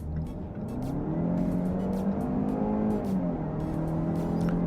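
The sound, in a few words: car engine revving under hard acceleration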